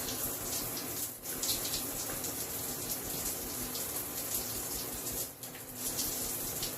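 Steady running water pours continuously from a tap, a broad hiss with a couple of brief dips where the flow is interrupted.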